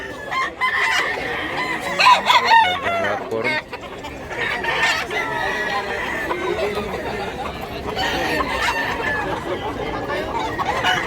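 Roosters crow repeatedly at a busy chicken market, loud and close, with clucking fowl around them. Sellers and buyers chatter and talk underneath the crowing.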